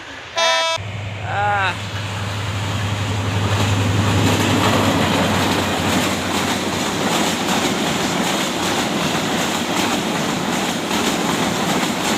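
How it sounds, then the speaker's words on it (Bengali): A train from Dhaka rushes past at full speed close by, opening with a horn blast and then a loud, sustained roar of wheels and wagons rattling along the rail line. "আপনারা দেখতে পাচ্ছেন আমার পিছনের দিকটা ট্রেন"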